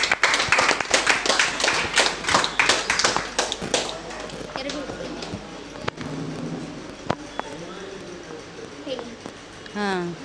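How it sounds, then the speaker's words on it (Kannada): A crowd claps for a mother at a varicose-vein therapy event, a burst of quick, close hand claps that loosens into scattered claps and thins out, with people talking over it. "ಅಮ್ಮಂಗೋಸ್ಕರ ಜೋರಾಗಿ ಚಪ್ಪಾಳೆ."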